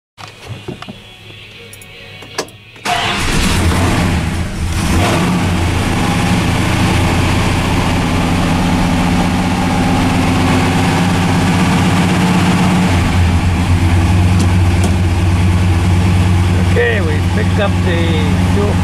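A Dodge Ram truck engine cranks and catches after a few seconds of quiet, then settles into a loud, steady, rumbling idle up close, with a voice briefly heard over it.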